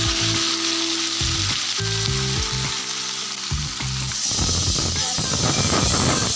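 Chicken pieces frying in hot oil with capsicum, a steady loud sizzle with bursts of crackle and stirring scrapes, building to a brighter, denser hiss toward the end.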